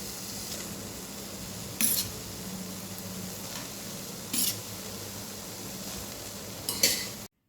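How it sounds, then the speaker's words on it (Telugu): Cooked rice being stirred into coriander paste in a pot, with soft scraping and stirring under steady low sizzling, plus a few brief sharp spoon clinks against the pot. "కొత్తిమీర పేస్ట్ మొత్తం అంతా అన్నానికి పట్టేలాగా కలుపుకోవాలి."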